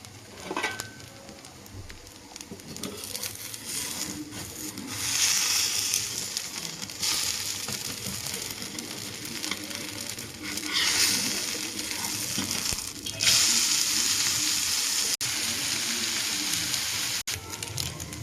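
Rava uttapam batter frying on a hot griddle, a steady soft sizzle with broad hissing swells that rise and fall, close by and without talk.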